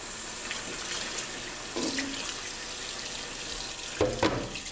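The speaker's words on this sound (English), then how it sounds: "I want to rinse these really good and let them soak." Water runs steadily from a tap into a sink, a constant hiss with a few soft splashes and clunks as salmon fillets are rinsed under it.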